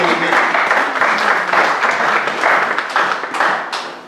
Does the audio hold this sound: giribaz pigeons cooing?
no